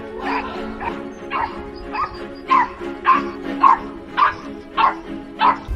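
A small dog barks rapidly and shrilly while facing a coyote, with high yips and whimpers in a steady series of about ten barks, close and loud with no talk.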